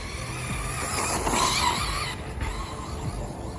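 A Traxxas Slash 4x4 Platinum RC car with Castle Sidewinder 8 6S electronics and an LCG chassis runs nearby, giving a continuous high electric whine with tire hiss and a brief swell as it speeds past.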